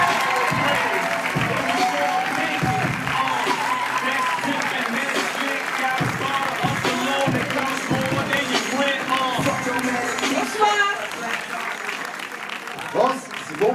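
A crowd applauds loudly for a young woman joining a debate event in France, dense clapping mixed with cheering, shouts and overlapping voices, continuous and close throughout.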